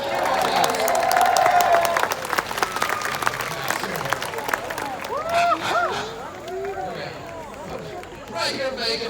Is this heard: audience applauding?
yes